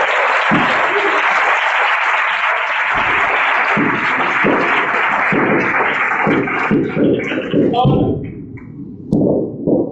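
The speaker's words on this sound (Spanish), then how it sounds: "Un aplauso fuerte al Rey bendito." A church congregation claps loudly and continuously during a sermon, the applause thinning into scattered claps near the end.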